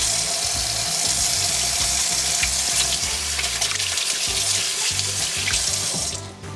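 A kitchen sink tap runs steadily while hands are washed, the water loud and close for several seconds and then cut off at the end, with no talking over it.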